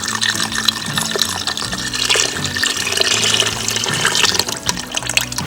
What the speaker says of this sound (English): now we're going to put in about 32 ounces of unsalted vegetable stock